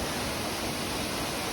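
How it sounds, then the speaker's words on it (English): The Kai waterfall in the mountains of Laos sends out a continuous, dense roar of falling water, broadband and unbroken, loud and close with no other sounds standing out. "there's the waterfall"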